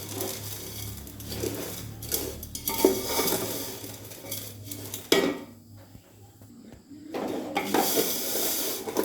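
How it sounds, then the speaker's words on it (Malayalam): A spoon stirring vermicelli payasam in a metal pot, scraping and clinking against the sides in irregular strokes, close and fairly loud, with a quieter pause midway before the stirring resumes. "നുറുക്കി വെച്ചിരുന്ന വെർമസലി അതിലേക്ക് ഇട്ട് കൊടുക്കാം. നന്നായിട്ട് അത് ഇളക്കി കൊടുക്കണം."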